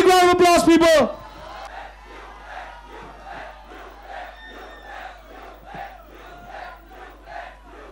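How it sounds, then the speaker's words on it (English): A crowd at a college fest concert cheers and claps for a band's photographer; a loud amplified shout opens, then rhythmic crowd clapping and cheers carry on at a lower level. "Oyon, big round of applause, people."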